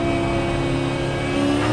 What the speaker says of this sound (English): car right.